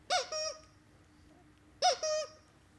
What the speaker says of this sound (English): It's okay, you see, it's just a squeaker.